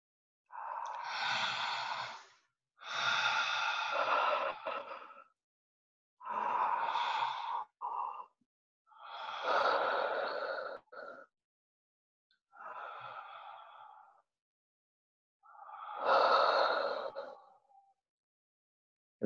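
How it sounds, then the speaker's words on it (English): A group takes deep breaths together, six slow inhales and exhales that are breathy and fairly close, with clear silent pauses between each breath and no talking. "let's take 3 breaths."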